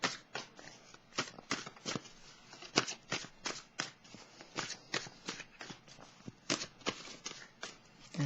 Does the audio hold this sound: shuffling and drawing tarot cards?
yes